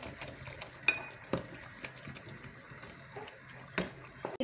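Lentil dumplings drop into a simmering kuzhambu gravy in a pot, giving a few soft plops and splashes over a low bubbling background.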